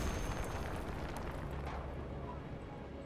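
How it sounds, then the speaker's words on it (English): A grenade blast in the Battlefield 1 video game: a loud, dense broadband roar that rumbles and slowly decays over about three seconds, filling the whole clip without clear voices. "Grenade, watch out!"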